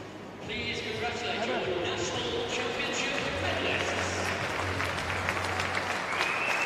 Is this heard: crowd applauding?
yes